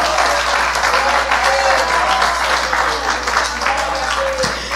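A church congregation claps together in praise during a service, a loud, steady wash of applause with voices faintly audible underneath throughout.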